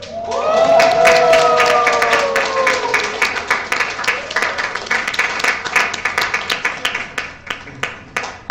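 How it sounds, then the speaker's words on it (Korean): An audience at a book concert bursts into cheers and applause after a prize winner is named, the crowd voices fading as the clapping thins into scattered, irregular claps. "이렇게 환호가 적나요?"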